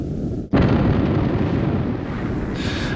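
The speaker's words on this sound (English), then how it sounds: "And one missile's already hit" Air-to-air missile striking its target in a Eurofighter EF2000 combat flight game, a sudden loud explosive burst after a moment of quiet, followed by a sustained rumbling roar that fades slowly.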